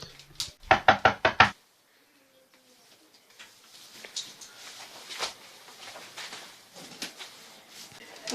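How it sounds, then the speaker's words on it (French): Five quick, sharp knocks on a door ring out close and loud in a rapid burst, then give way to quiet background rustling and faint bird-like cooing. "quelqu'un toqua à la porte"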